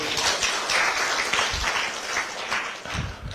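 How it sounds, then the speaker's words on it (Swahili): Applause from a crowd at a public gathering with a prime minister present, steady dense clapping sustained throughout, fairly loud and close, with no clear speech over it. "Tumpige makofi"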